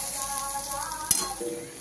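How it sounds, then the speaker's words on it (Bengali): Grated giant taro (maan kochu) with prawns and a little sugar sizzling steadily in a pan as the liquid cooks off, with a brief stirring clatter midway and no voices. "এখন ভাজা ভাজা হবে, পুরো রস ফেলিয়ে একদম লাল লাল করে ভাজা হয়ে যাবে।"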